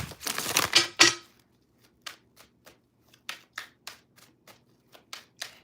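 Tarot cards are shuffled in a dense, loud riffle lasting about a second, followed by a string of soft, separate card taps and slides spaced out in an irregular rhythm, close to the microphone with no talking.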